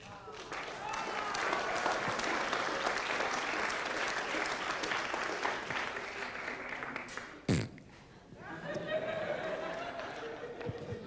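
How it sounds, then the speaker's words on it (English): Sustained applause from a wedding crowd for the groom, steady clapping for several seconds, a brief sharp bump, then the clapping resumes with some cheering voices mixed in. "a rousing round of applause for our groom here this evening"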